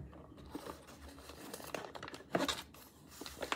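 Crinkling and tearing of a thin herbal powder packet, close up, with irregular rustles building to a louder rip near the end.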